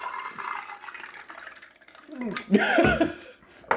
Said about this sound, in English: Pour yourself a glass of fizzy Tums